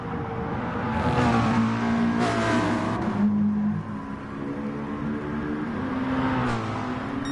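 Racing car engines roar in Gran Turismo Sport during a Nations Cup race at Goodwood, with a loud sustained drone, rising revs and passing whooshes near the start, then steady engine tone.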